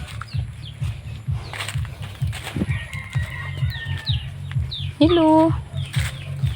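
Chickens on a small farm cluck and flutter close by in a steady busy rhythm, with one louder call near the end, and a person briefly speaks over them.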